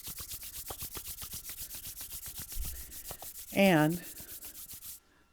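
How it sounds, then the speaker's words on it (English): Hands rubbing together briskly in a steady rhythmic swish, close and clear, with a brief loud rub midway and a short spoken word near the end before the sound stops abruptly. "So one way to do this is just rubbing your hands together so you can really feel that energy."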